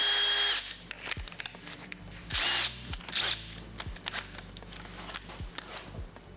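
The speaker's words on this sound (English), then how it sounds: "Where's my drill? It's here." A handheld power drill whirs in short bursts at close range during turbo downpipe and wastegate work, with several spaced thuds and clunks between the runs and no talking.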